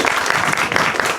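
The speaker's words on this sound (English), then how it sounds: "give me another round of applause for everyone that put this together." Outdoor crowd at a farm gathering giving a brief burst of applause, dense and fairly loud clapping from many people, heard alone without talk.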